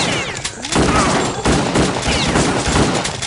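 Automatic rifle gunfire in the video game Kingpin: Life of Crime, a loud, dense, continuous burst of rapid shots filling the whole stretch with no pauses.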